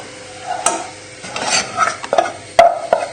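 A spoon stirs a thick roux-style sauce mixture for vegetarian lasagne in a pan, uneven scraping strokes with soft sizzle and a few sharp metallic taps, close and fairly loud.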